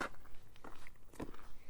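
Crunchy footsteps fall on slippery icy ground, a few distinct close crunches in a quick uneven rhythm, fairly quiet.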